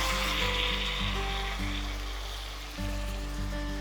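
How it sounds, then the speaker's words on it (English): Lean ground bison cooking in a pot gives a steady close sizzle with a low background hum, continuous and unbroken, with no talk. "And the bison is cooking."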